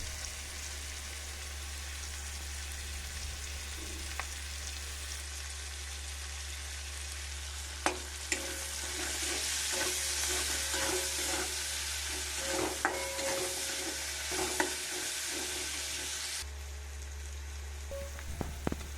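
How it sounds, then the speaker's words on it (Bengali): A steady sizzle of onions frying in a pan, with a low hum underneath and scattered scrapes and taps of stirring. "আর এই যে পেঁয়াজ দিয়ে দিলাম, পেঁয়াজ ভাজা,"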